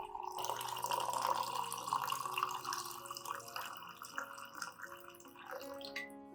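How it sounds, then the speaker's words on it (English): About 400 milliliters of clean water pours into a glass for a honey and banana peel mixture, a continuous splashing pour that rises in pitch as it fills, fairly close and alone. "Pour about 400 milliliters of clean water into the glass."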